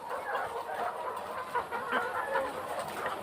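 Young laying hens on a poultry farm cluck continuously in a dense, overlapping chorus, fairly close and steady with no talking.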